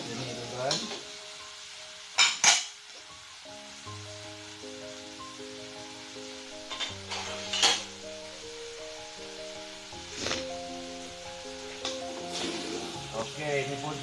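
Cencaru fish stirred into sambal in a wok, with scraping utensil strokes and a few sharp clanks over a low steady sizzle, while a voice talks throughout.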